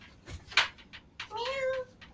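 A house cat meows in a few short, rising cries close by, with faint background noise in an indoor home setting.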